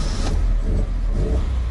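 Engine of a 1965 Alfa Romeo Giulia Sprint Speciale revving briefly, a loud, dense low rumble filling the short stretch with a rise near the start, heard from inside the vintage car.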